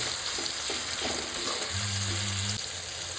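Spices with tomato and salt being sautéed in a pan, giving a steady, fairly quiet sizzle throughout with a few soft stirring touches and a low hum near the end, with no talking.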